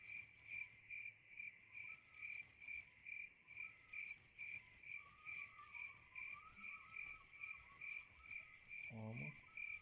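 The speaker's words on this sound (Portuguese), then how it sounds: "E grilo também, tá tendo." Crickets chirp in a steady pulsing rhythm, a continuous shrill trill outdoors, fairly faint, with a brief low thump near the end.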